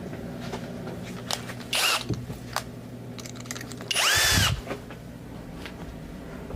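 Power drill whirring in two short bursts while loosening screws on a Fender Telecaster during a nut repair, with quieter handling and clicking in between.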